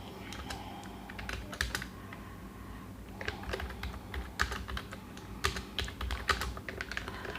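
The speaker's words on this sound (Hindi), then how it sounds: "अब हमें टाइप करना है।" Rapid typing on a computer keyboard while entering text, a steady run of close, crisp key clicks with irregular rhythm and occasional louder strokes over a quiet room hum.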